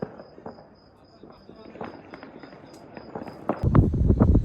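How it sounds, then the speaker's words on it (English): Gunshots from people shooting in wartime Syria, scattered cracks and pops at a distance that thicken into louder, denser firing near the end, with a faint steady tone above. "People shooting all over the place."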